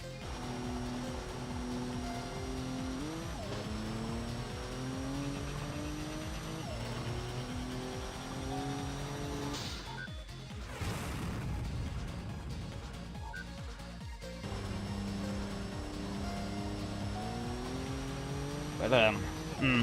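Race car engine in Assetto Corsa during a ranked online race, its pitch climbing steadily through the gears under acceleration, loud and continuous with a voice talking over it.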